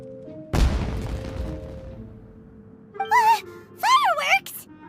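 A firework explosion in the video game Genshin Impact bursts with a loud close boom that fades into rumble, followed by short stylised character vocalisations.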